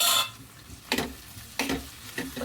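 Tomatoes going into a frying pan of spiced chutney, with a few soft sizzling bursts and stirring scrapes spaced out over a quiet kitchen background.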